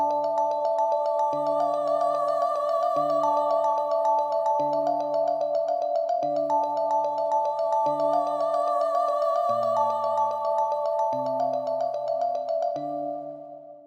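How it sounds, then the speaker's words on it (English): A synthesized human-voice preset from Omnisphere plays as a chopped vocal loop in an FL Studio hip-hop beat. It repeats bright, sustained vocal tones over changing lower notes in a steady rhythm, then fades out at the end. No one talks. "So that's just a little vocal chop I added in the back."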